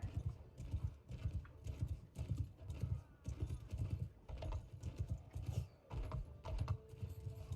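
Horse hooves clip-clop in a steady, repeated rhythm in the Mount & Blade video game, each hoof fall close and fairly loud, with no voices over them.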